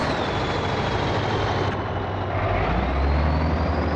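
A Mack R Series truck hauling 25 tons of timber out of a sawmill in Grand Truck Simulator 2, with a steady, loud engine drone and a faint high whine throughout, heard from the cab.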